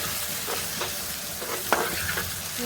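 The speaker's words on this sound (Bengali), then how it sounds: "মাছ ভাজিয়ে হয়ে গেছে, এখন একটু জাল করে নামিয়ে নেব" Shrimp fry with tomato in a pan, a steady soft sizzle punctuated by several scraping stirs and one brief metallic clink near the end.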